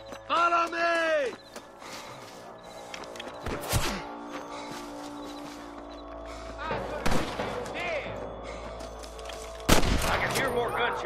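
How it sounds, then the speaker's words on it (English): Gunfire in the Western video game Red Dead Redemption: several sharp shots crack out amid game music and ambience, with a loud burst near the end and voices heard between them. "I can hear more gunshots."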